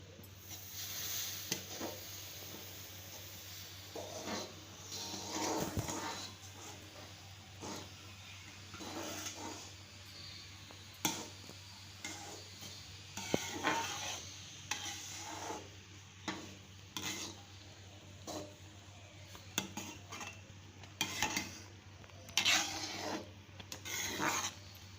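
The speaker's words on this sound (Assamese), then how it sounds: "উতলাৰ মাজত মই সুজিখিনি ঢালি আছো" Semolina is poured and stirred into boiling water in a pan for suji halwa, producing repeated rasping, scraping strokes with soft sizzling, faint and intermittent.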